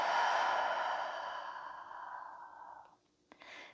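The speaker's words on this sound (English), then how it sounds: "Through your mouth, exhale it out." A long, soft breath exhaled through the mouth during gentle floor yoga stretching fades out slowly over about three seconds, followed by a faint short breath.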